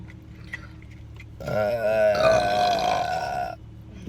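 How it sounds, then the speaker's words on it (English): A long, loud belch from a family member during a burping challenge after a meal of burgers and chicken sandwiches, rising out of a quiet room and drawn out for about two seconds before cutting off. "The burping family."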